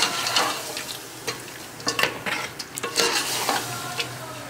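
Tomatoes and whole green chillies fry in a pot while being stirred, giving a soft, steady sizzle broken by repeated scraping and clattering stirs, close and moderately quiet, with no talking.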